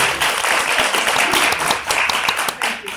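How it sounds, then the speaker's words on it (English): A warm round of applause from the audience at a Superior Court of New Jersey lawyers association event greets the keynote speaker, dense steady clapping that carries on for the full three seconds without any talk over it. "give a warm round of applause"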